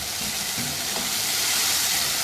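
Mutton liver kaleji masala frying in a pan makes a loud, continuous, dense sizzle with no pauses and no speech.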